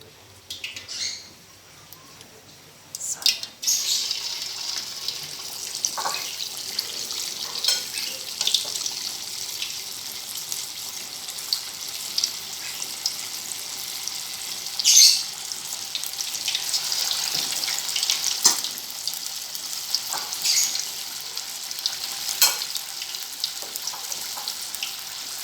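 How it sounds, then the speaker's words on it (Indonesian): Batagor fried fish dumplings sizzle in hot oil with a continuous hissing crackle, fairly steady and close, broken by occasional louder pops and clinks. "Oke, kita goreng."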